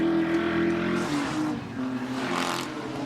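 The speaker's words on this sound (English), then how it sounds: "as we watch Dick Johnson close again on Jim Richards coming out of the right-hander at Winfield" Group A touring cars race at Amaroo Park in the 1985 ATCC round, engines roaring continuously and loudly, with pitch shifts as the cars accelerate out of a right-hander.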